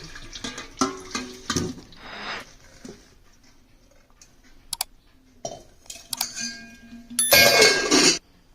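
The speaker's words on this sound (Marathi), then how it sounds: "ह्या उकडलेल्या कारल्यातील पाणी काढून घेऊया" Water draining from boiled bitter gourds in a home kitchen, heard as intermittent splashing pours and clinks of a pot or utensil, with quiet gaps between and a loud final gush of water.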